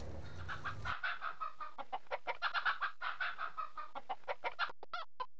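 Several chickens cluck and chatter close by in a steady run of short calls, with one brief squawk near the end, on a farm where the flock grazes grass.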